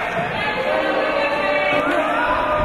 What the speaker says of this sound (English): he has brought this crowd to its feet